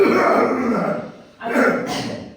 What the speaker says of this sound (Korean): 왕자가 헛기침한다.